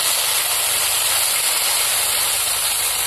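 Ground spice paste sizzling as it is added to frying onions in a pan for a cabbage and egg dish, a loud, steady, close hiss with no talk.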